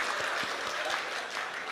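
An audience at a live Hindi comedy poetry show claps, a dense continuous patter of applause without speech.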